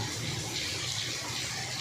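Heavy rain falls over farm fields with water rushing below, a short, steady hiss of pouring water.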